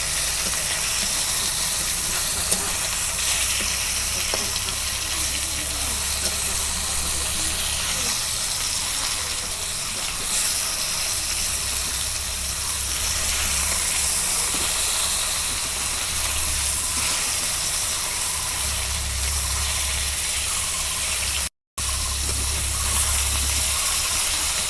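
Rupchanda fish sizzles steadily as it fries in a pan, a loud continuous hissing spatter that holds throughout, with occasional low mechanical rumble underneath and a brief dropout near the end.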